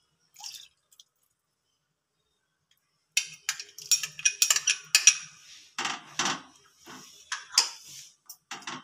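A lid set on a pot of chicken stew cooking on a gas stove, giving a string of light metallic clinks and taps after a brief quiet stretch, close and fairly soft with no talking.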